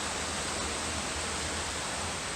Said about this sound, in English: behind me is like another waterfall